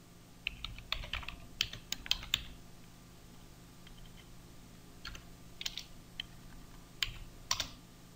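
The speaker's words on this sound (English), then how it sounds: "then we can type another single line of code." Typing on a computer keyboard while entering a line of VBA code in Excel, with quick clusters of light key clicks separated by short pauses, close and fairly quiet.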